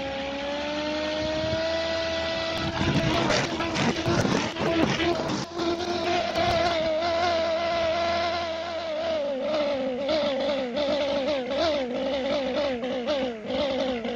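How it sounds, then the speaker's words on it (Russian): A homemade electric lawnmower motor runs hard under load, its whine rising and dipping as the revs start jumping erratically, loud and steady throughout with no talking. "меньше чем через минуту интенсивной работы обороты двигателя начинают прыгать"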